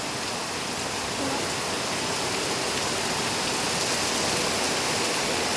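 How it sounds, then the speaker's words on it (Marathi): Heavy rain pours steadily at night, a dense, constant hiss filling the whole stretch with no letup and no voices. "खूप पडतो पाऊस आज"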